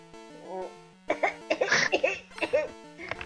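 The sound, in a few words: imitated cough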